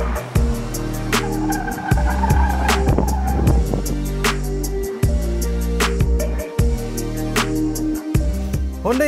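A 2020 Hyundai Creta SUV with a 1.4-litre turbocharged engine drives on the road, its engine droning and stepping through repeated rises and drops in pitch as it accelerates through gears, with sharp clicks and thumps scattered over the steady loud hum.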